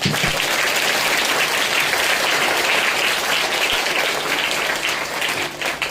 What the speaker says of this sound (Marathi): जोरात टाळ्या वाजवूया आपण.